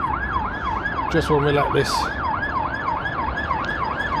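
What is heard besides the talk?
ambulance siren passing by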